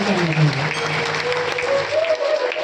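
An audience at a Rishi Panchami religious satsang in Ambilhol claps loudly and steadily throughout, with the dense applause of a crowd and some sound carrying over it.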